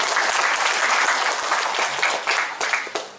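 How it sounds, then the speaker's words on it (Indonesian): An audience at a talk on mosque programme development breaks into loud, dense applause that holds steady and then begins to thin out toward the end. "Kita kasih tepuk tangan dulu yang luar biasa"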